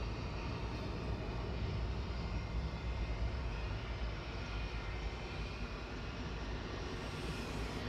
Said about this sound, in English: Shuttle 3 Tango heading down to London Heathrow now. This is an A319 GDBCE.